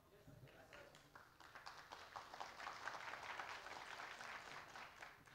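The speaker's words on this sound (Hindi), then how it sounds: "ये जो आप लोग ताली मारा ना" A crowd at a speech event in Bangalore breaks into sustained applause, many hands clapping at once in a dense, steady roar that holds for several seconds at moderate distance.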